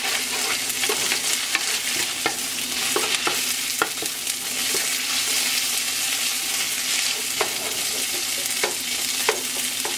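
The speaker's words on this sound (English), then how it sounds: "Now we are just going to saute this." Chicken chow mein sautés in sesame oil. A strong, continuous sizzle is dotted with small clicks and scrapes from stirring, steady and close for the whole stretch.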